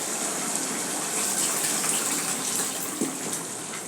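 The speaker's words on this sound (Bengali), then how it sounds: "নেড়ে ছেড়ে দিয়ে একটু জল দিয়ে দিই" Water gushes steadily into a pan of minced chicken curry, a loud continuous close pour without pause.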